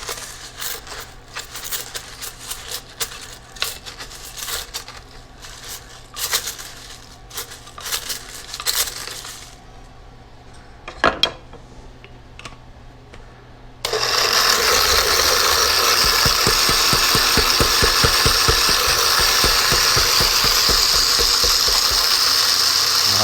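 Blender blades grinding dried tomatoes into powder, first a rattling clatter of dry pieces knocking around, then a loud steady whirring roar of the motor running at full speed, close up.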